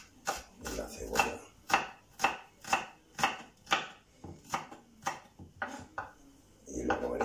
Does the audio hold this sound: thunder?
no